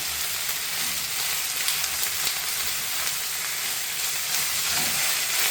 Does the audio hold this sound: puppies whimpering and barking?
no